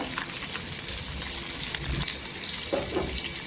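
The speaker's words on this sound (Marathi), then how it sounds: "इथे आपण ही लसूण आहे तेलावर टाकून घ्यायची तेलाला असा फेस येतो" Garlic cloves fry in hot, foaming oil with a continuous watery hiss and crackle, steady throughout with a few brief clinks, close by.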